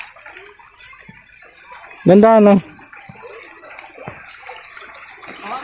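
Water flows in an irrigation channel beside rice paddies in the mountains of Roxas, Capiz, a faint, steady rushing under a brief spoken remark, with a short loud tonal burst in the middle.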